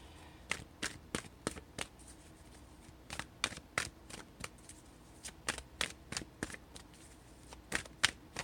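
Tarot cards being shuffled by hand, heard as a steady run of crisp, close riffling snaps and slaps repeated many times at an uneven rhythm, with no talking.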